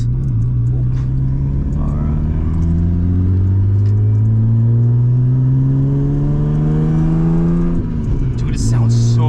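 Nissan R32 Skyline engine revving loud and close, a steady droning roar with pitch climbing slowly across the rev, dipping briefly near the end before rising again; a voice talks over it.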